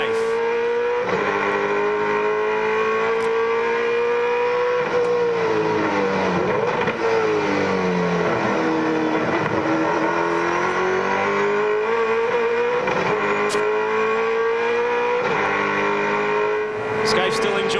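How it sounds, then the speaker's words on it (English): Onboard a V8 touring race car at about 290 km/h during the 2001 Bathurst 1000: a loud, continuous high-revving engine drone with pitch dipping and climbing through gear changes, under a commentator's voice. "That's what it sounds like to take the chase at 290 kilometres an hour"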